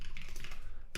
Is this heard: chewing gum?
no